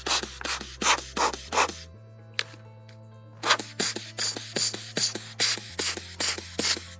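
A cloth rubs rapidly back and forth over the LCD area of a MacBook Air A2179/A1932, a loud close rhythmic swishing that stops briefly midway and then resumes, with no talk.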